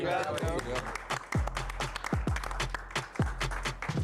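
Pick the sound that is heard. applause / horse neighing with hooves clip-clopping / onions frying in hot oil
applause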